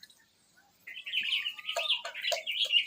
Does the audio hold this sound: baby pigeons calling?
yes